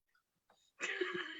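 A single short, rough cough or throat-clearing burst, close and fairly loud, preceded by a few faint breaths and clicks.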